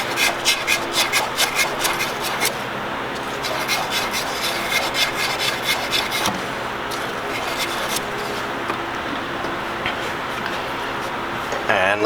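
Scotch-Brite pad and sandpaper rubbed against a fuel line for an S13 with a 2JZ swap, a steady rasping scrub in repeated strokes, close and fairly loud, with a brief pause midway.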